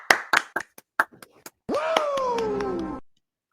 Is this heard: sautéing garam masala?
no